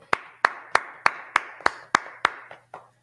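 Group in a brotherhood class claps in unison, about ten sharp, evenly spaced claps in a steady rhythm, close and clear, each with a brief room ring before the next.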